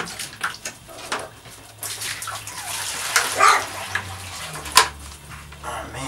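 Two dogs lapping water from a bowl close by, irregular wet slurping and splashing in bursts, with light clinks and faint background noise.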